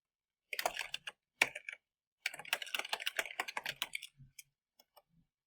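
Rapid keystrokes on a computer keyboard while entering a calculation into MATLAB, close and crisp, with two short bursts followed by a longer run of typing and a few final taps.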